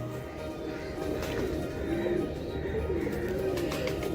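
A pigeon of the Heera Laal breed gives a few soft, low coos close by over a steady background hum, with faint rustling and a voice in the surroundings.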